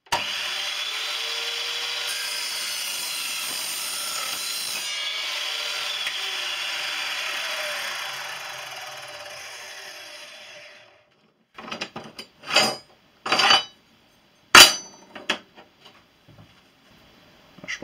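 An Evolution R210 CMS saw cuts through a steel profile in a loud, steady grinding whine lasting about ten seconds, then winds down, followed by several short clanks and rattles as the piece is handled.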